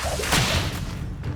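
Levioso levitation spell cast in Hogwarts Legacy, a broad airy whoosh that swells and fades over about a second, alone against a steady low game rumble.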